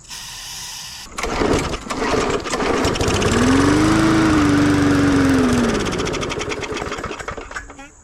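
An old push lawn mower engine, a discarded trash find with a suspect carburetor and bubbly gas, starts with a loud close roar, runs steadily for several seconds, then sputters and dies out.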